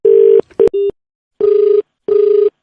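Telephone tones sound loud and close: a few short dialing beeps followed by two evenly spaced longer ringback tones with silent gaps between them.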